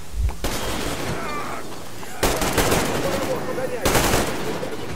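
Bursts of rapid gunfire in Metro Exodus come in three loud clusters, with quieter rattling shots between them.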